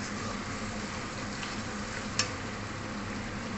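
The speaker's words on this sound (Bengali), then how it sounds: "দেখুন আদাটা আমার ভাজা ভাজা হয়ে গেছে।" Ginger fries in oil in a pan, a steady, moderately quiet sizzle with one brief sharp tick midway, heard close up with no other sounds.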